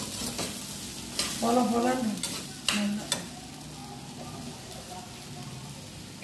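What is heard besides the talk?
urad dal frying in oil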